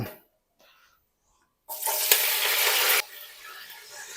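Onions dropped into hot oil for mutton biryani fry with a sudden bright sizzle that holds for over a second, then settles to a softer hiss, after a near-silent opening.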